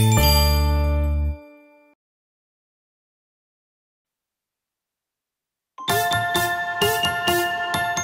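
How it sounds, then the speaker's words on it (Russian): Bright jingling chimes from a children's Christmas song, with a loud ringing burst at the start, a long silent gap, then a rhythmic tinkling run of bells near the end. "Давайте потанцуем под звон бубенцов с паровозиком Бобом!"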